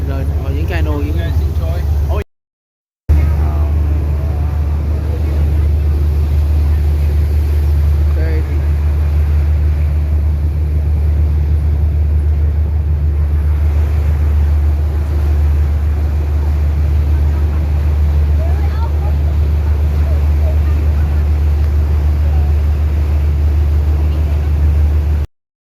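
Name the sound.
motorboats and boats on Venice canal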